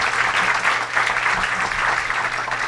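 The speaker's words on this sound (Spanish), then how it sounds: "un aplauso para Daniel" Audience applause welcoming a guest at an entrepreneurship interview event, a steady, fairly loud burst of clapping from the crowd lasting a few seconds.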